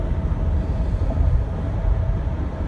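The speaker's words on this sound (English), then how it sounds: "There you go, another L train going that way." A Chicago L train passes near the Eisenhower, its steady low rumble and rolling clatter holding at a fairly loud, even level for the whole stretch, with no voices.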